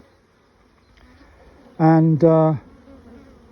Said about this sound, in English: these bees are bringing in a little nectar.